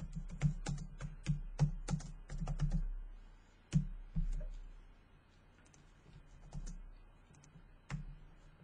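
Typing on a computer keyboard during a CSS coding lesson, with rapid clusters of crisp key clicks, pauses and scattered single taps, close and fairly quiet, and no talk.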